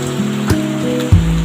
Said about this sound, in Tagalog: napakalakas ng ulan ngayon